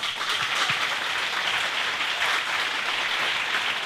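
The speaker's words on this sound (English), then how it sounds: "So I'd like to give Sal a big applause." Steady, dense applause from an audience honouring a prize laureate at an award event, a continuous wash of many hands clapping at even loudness throughout, with no talk over it.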